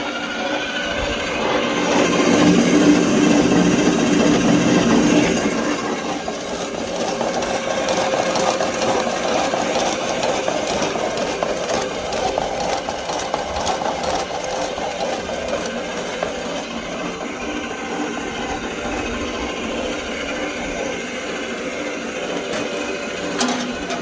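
A homemade DIY cement mixer's motor runs slowly, a loud continuous mechanical drone with steady rattling and whirring that eases slightly after the first few seconds and continues evenly to the end.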